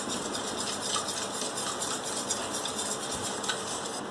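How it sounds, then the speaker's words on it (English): A whisk stirring vanilla essence into a custard mixture in a bowl, a close, continuous rhythmic scraping and swishing with light metallic clinks against the bowl. "with the help of whisk, I am stirring this"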